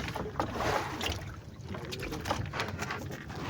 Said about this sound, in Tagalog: May alon na alon.